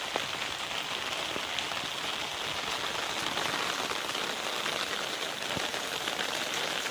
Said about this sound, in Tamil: நல்லா மழை பிடிச்சிச்சு பாருங்கள்